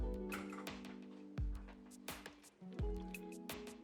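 Rinsed canned beans are tipped into a pot of chili, making a few soft, wet squishing plops and drips, close and fairly quiet.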